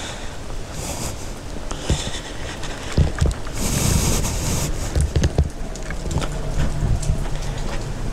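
Steady rain falls outdoors during a motorcycle stop near Cape Sata, a dense patter on surfaces with scattered louder drops and knocks, continuous and fairly close throughout.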